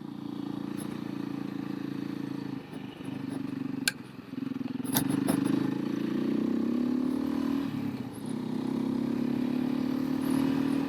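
A 2016 Beta RR-S four-stroke dirt bike being ridden, its engine droning steadily with rising and falling revs and a few clattering knocks from the terrain.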